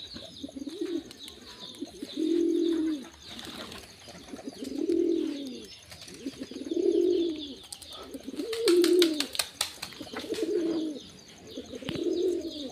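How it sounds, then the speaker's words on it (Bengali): Pigeons coo in a slow, regular rhythm, about seven low rounded calls close by, with faint chirps and background hiss between them. "কবুতরের ডাক শুনতে খুব ভালো লাগে।"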